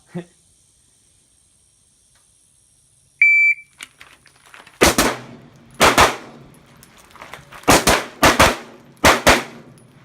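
Pistol gunfire on an outdoor shooting range course of fire with Sig and Glock handguns: a short beep, then loud, sharp shots in quick pairs and clusters, with brief pauses between strings.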